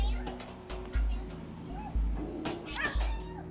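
A stray cat meows repeatedly indoors at night, with several rising and falling cries spread across the moment, fairly close and clear over faint background murmur.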